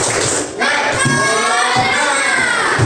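A group of children in a classroom perform a rhythmic clapping cheer, loud and close, with repeated claps and shouted voices together.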